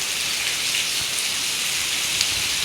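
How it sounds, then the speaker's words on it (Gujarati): Heavy rain pouring down in a village, a dense, steady hiss of drops drumming on surfaces nearby, continuous and even throughout with no voices. "જો ગામડે તો ફૂલ વરસાદ છે"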